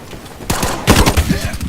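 Gunfire in the IronSight online shooter game: rapid automatic bursts crack out in quick succession, loud and close, with rattling shots overlapping a low game backdrop.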